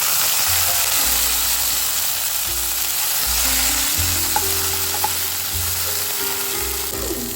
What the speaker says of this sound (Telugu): ఎండుమిర్చి కొంచెం ఫ్రై అయ్యాక ఒక మీడియం సైజ్ టొమాటోని ఇలా ముక్కలు కట్ చేసి వేసుకోవాలి.